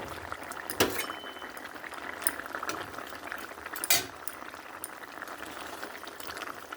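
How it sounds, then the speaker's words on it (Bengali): Mixed vegetable curry with rohu fish simmering in a pot, a soft continuous bubbling broken by two sharp clinks of a utensil against the pot, with no voices. "মাছ দিয়ে আরও কিছুক্ষণ ফুটে যাবে"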